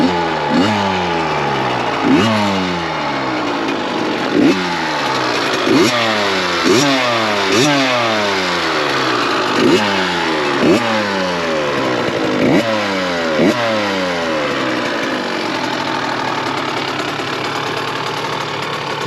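A 2022 KTM 65 SX dirt bike engine revs hard and repeatedly, a small two-stroke buzzing up in sharp rising blips roughly every second or two, then settling toward a steadier idle near the end; loud and close, with no talk.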